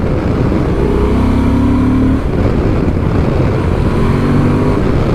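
A 2024 Honda Transalp 750 motorcycle engine pulling hard under acceleration, a loud continuous roar with rising tonal revs, a brief dip as it shifts gear, then climbing again amid heavy wind noise.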